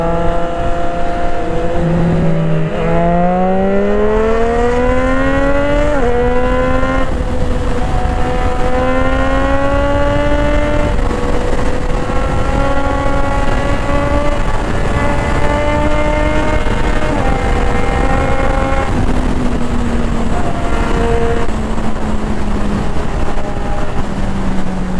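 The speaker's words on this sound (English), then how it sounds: "this exhaust is beautiful" A Triumph Street Triple motorcycle with an SC Project exhaust drones loud and close, its pitch climbing and dropping as the throttle rises and eases through gears.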